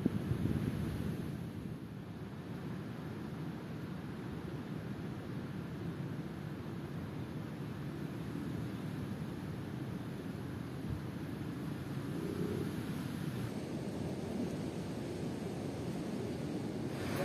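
Wind and surf on a beach lined with coconut trees, a constant low rumbling roar of waves mixed with wind buffeting the microphone, steady and fairly faint with no voices.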